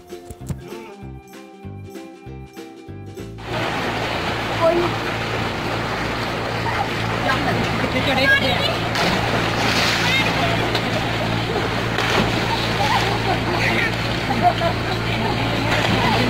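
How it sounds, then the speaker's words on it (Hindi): Children jumping and splashing into water in a Punjabi village, a loud churning wash of splashes and surf-like noise after a brief quieter opening, continuing without a break. "ये देखिए यहाँ बच्चे खेल रहे हैं, बहुत ही जंप लगा रहे हैं इस पानी में"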